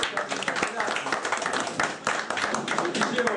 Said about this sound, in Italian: continuiamo con un applauso per